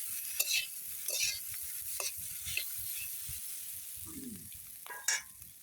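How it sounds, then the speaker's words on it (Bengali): Already-boiled potatoes fry in a pan with a steady sizzle while a utensil stirs and scrapes them in irregular strokes, a few louder clinks standing out near the end. "আলুটা একটু ভাজি ভাজি করে নিতেছি"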